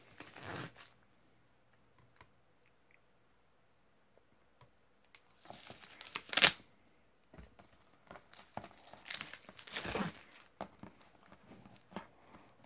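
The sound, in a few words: cutting open plastic wrap on Gundam Wing Blu-ray set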